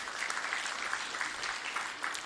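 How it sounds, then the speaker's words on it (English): A brief burst of full, even applause rises from the audience at the launch of an economic report in Malawi, dense and continuous throughout. "Could we give them another round of applause"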